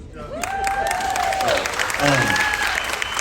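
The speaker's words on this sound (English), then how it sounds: "Even the family's clapping." Audience applause at a cruise director's Q&A aboard the Carnival Breeze, steady, dense clapping from a crowd filling the room, with a voice speaking over it at times.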